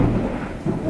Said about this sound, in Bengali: প্রচণ্ড মেঘ ডাকছে